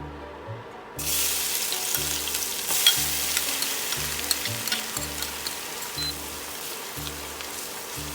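Garlic drops into bubbling hot sunflower oil in a pan, and a loud, close sizzle bursts in after a second of quiet, then hisses steadily throughout with faint crackles and no talk.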